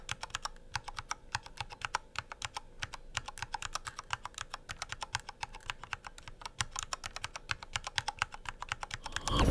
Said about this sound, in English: So let's do a sound test.